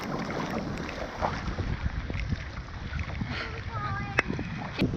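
A boat moving on water in Thailand during the monsoon, with steady wind buffeting the microphone and low rumbling, plus faint voices and occasional splashes or knocks.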